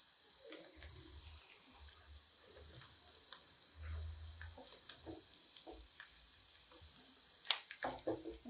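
Poha ingredients cooking in a pan with a soft, steady sizzle and occasional stirring clinks and scrapes, fairly quiet, with a brief louder clatter near the end.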